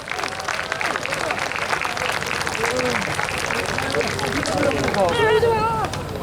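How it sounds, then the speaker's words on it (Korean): Applause from an audience at the national Chunhyang pageant as six selected contestants return to greet them: a dense, steady wash of clapping lasting several seconds, with voices and tonal sounds layered over it. "큰 박수로 맞이해 주시기 바랍니다."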